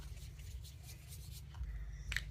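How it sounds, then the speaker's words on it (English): Pen or marker writing on a stencil card, a soft scratchy stroke texture running quietly and steadily with a brief sharper scratch near the end, no voices. "I'm going to write Mike"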